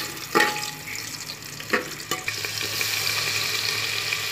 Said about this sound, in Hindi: और काजू डालकर इसे अच्छी तरह से हम लाइट ब्राउन होने तक ऐसे ही भूनेंगे।